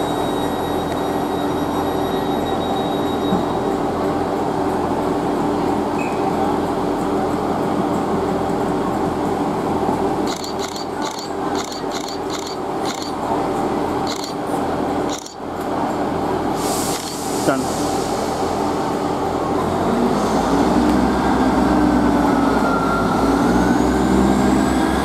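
A GWR Class 158 diesel multiple unit departs Southampton Central for Brighton, its engine rumbling steadily as it pulls away, with wheel clatter over rail joints and a rising drone near the end.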